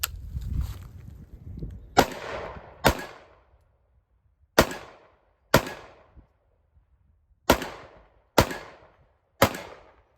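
Springfield Prodigy pistol firing at a range: eight sharp, loud reports, each with a short decaying tail, spaced unevenly over several seconds, with quieter handling noise before the first shot.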